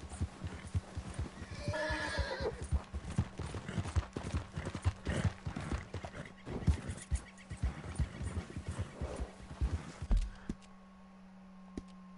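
Horse hooves clip-clop in a steady stream while a horse whinnies in the video game Red Dead Redemption 2, with faint clicks and a low electronic hum underneath.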